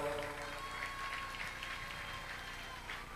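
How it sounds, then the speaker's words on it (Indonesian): Soft, continuous applause from an audience at an Indonesian education ceremony, distant and washy, with a faint tonal hum and murmuring voices underneath. "Tepuk tangan dong."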